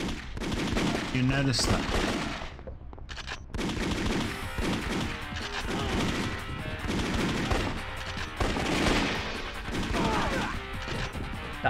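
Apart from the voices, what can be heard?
gunfire in the PS1 video game VIP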